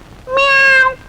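A person's voice imitates a cat, producing one loud, close, clear meow about half a second long that rises and then falls.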